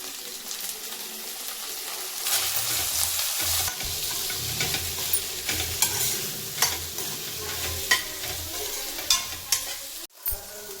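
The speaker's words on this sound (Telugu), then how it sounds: "బెండకాయ మంచిగా ఫ్రై అయ్యాక" Okra fries in a pan with ginger, garlic and turmeric, a constant crackling sizzle heard up close with repeated scraping and clinking as a spoon stirs, ending with a sharp knock.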